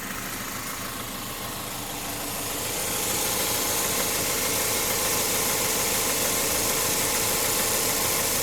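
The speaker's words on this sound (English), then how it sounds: "That's the AC compressor down there." Noisy AC compressor on a Chevrolet Malibu engine, a loud continuous mechanical rattle and whine over the idling motor, swelling noticeably louder and harsher partway through and staying steady after.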